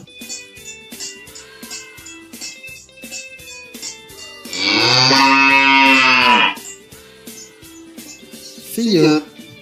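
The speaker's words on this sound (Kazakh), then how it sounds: "Сиыр." A cow lets out one long, loud, low moo lasting about two seconds over gentle rhythmic background music, followed near the end by a short spoken word.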